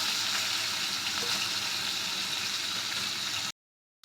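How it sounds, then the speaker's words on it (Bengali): Onions frying in oil in a pan for a rui fish curry give a steady, even sizzle for a few seconds before cutting off abruptly, heard alone without talk. "আমাদের পেঁয়াজটা ভাজা হয়ে গেছে,"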